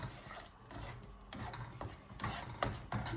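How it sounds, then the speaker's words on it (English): Sarson da saag is stirred in a pot with a spoon, making soft repeated scraping and thudding strokes at an uneven rhythm, close and fairly quiet. "give a nice stir"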